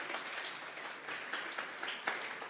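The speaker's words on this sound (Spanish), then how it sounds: "Vamos a regalarle una ofrenda de palmas al Dios de la gloria." A church congregation applauding during a Sunday service, a faint, steady wash of clapping heard from a distance, with a few louder claps standing out.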